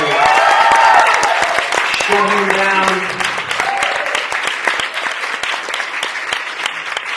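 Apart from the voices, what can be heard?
audience applause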